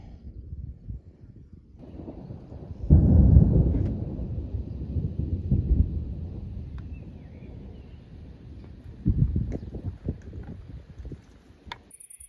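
Thunder rolls over an off-grid homestead at night, a low rumble swelling loud and then fading over several seconds, with a second, weaker rumble following.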